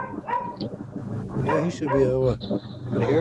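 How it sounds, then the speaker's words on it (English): A dog at home barks and yelps in short bursts mixed in with a man's speech, the barks loud and close but partly masked by the talking. "Now I got my dog going crazy."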